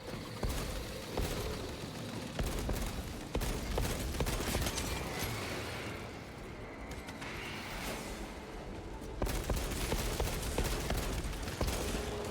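Orbital guns fire in a video game with a continuous dense barrage of rapid shots and booming impacts. The barrage is steady and fairly distant, and no talking is heard.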